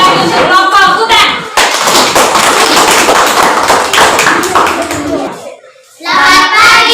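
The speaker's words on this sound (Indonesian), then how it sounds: "Tepuk tangan sekali lagi untuk kelompok hutan." Students in a school classroom applaud a presenting group for about four seconds, a dense burst of close clapping and tapping between stretches of spoken voices at the start and end.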